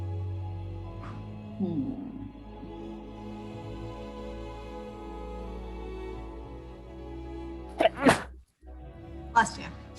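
A single abrupt sneeze bursts out, followed by a smaller burst, over a steady low room hum during a tabletop role-playing game session, with faint voices in the background.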